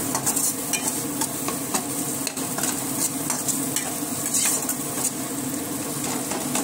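Tomato pieces and spices stirred in a hot pan for a green banana kofta curry, with steady loud sizzling and frying and repeated scraping strokes of the spoon, close up and without talk.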